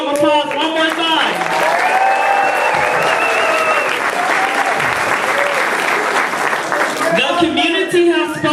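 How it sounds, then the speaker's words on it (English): Sustained applause from a large audience at the People's State of the City 2016, steady clapping filling the room for several seconds, with voices and cheers rising at the start and end. "let's give them a round of applause one more time."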